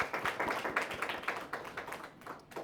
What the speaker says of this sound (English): Can we give Prof and Dr. another round of applause?